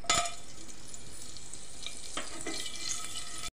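Whole spices frying in hot ghee in a pressure cooker give a steady, close sizzle with a short clatter of stirring near the start and faint scraping later, and no voices.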